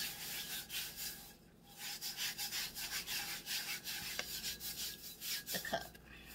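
Steady rubbing strokes burnish a tumbler cup, a continuous close scraping friction that swells and fades in rhythm for several seconds with no voices.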